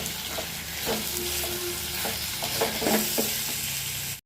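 Tomatoes and ginger-garlic paste sautéing in hot oil for a Tamil-style chicken gravy, with a steady close sizzle and intermittent scraping stirs of a spatula throughout, no voices.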